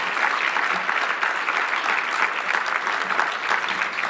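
An audience at a Digital Equity Champion Awards event applauds Angela and her team, a dense, steady wash of many hands clapping that stays loud throughout.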